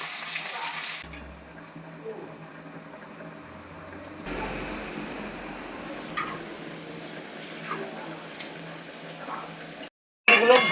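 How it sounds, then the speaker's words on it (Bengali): Paneer pieces frying in hot oil give a steady, moderate sizzle and crackle that runs nearly the whole time, with a few faint clinks over it and a brief drop to silence near the end. "এটা গরম হয়ে গেছে, এরপরে আমি পনিরগুলো ছেড়ে দিচ্ছি।"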